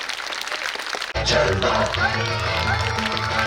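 At a school annual function, an audience claps to welcome children onto the stage, a dense burst of applause quickly joined by loud music with a heavy beat.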